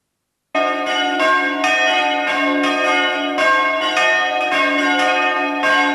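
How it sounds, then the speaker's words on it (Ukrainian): Church bells peal steadily in Pechenizhyn, a Ukrainian village, calling residents to an assembly; strong rhythmic strikes ring out every half second or so, loud and close, with a sustained humming tone beneath and no talking. "Зранку у Печеніжині б'ють у дзвони, так скликають людей на вічі."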